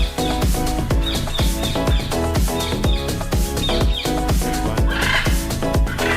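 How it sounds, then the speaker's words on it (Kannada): A jungle fowl at a zoo, a series of repeated rhythmic bird calls mixed with other clucking and chirping nearby, fairly loud and continuous. "ಇದು ಕಾಡು ಕೋಳಿ."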